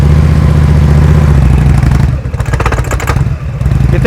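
A motorcycle engine at low throttle during slow-speed riding practice idles with a loud, close, uneven putter, its rumble shifting midway into choppier, rattling pulses with scattered clatter.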